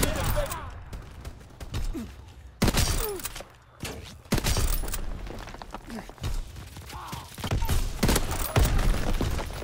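Call of Duty gunfire, dense bursts of shots and heavy thuds that keep going without a break, with a voice talking over parts of the game noise.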